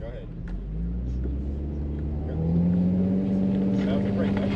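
A car engine drones low and rises into a sustained higher revving tone while doing donuts with the brake held, close and steady.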